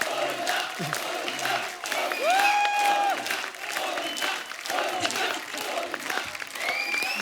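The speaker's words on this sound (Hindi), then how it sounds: "जोरदार तालियां गोविंदा सर के लिए।" Sustained audience applause with crowd cheering for Govinda, arriving on stage as a guest on a TV comedy show, loud and continuous throughout, with a brief whistle-like tone and a host's voice faintly underneath.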